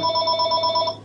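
A telephone rings in the Ocarina of Time game, a loud, steady electronic trill of pulsing tones held for about a second before tailing off.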